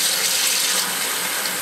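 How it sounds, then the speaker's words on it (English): Hot water running from a tap into a container mixed with laundry detergent, a steady close hissing gush throughout with no talk. "I'm gonna fill it with hot water"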